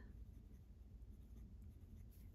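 A fountain pen with a medium #5 nib (Opus 88) writes on paper with a faint, close scratching and scribbling, very quiet and alone.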